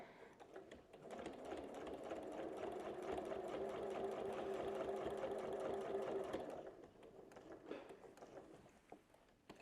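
A quilt being stitched on a sewing machine, a steady loud whirring run of fast needle strokes lasting several seconds before stopping, with faint handling noises after.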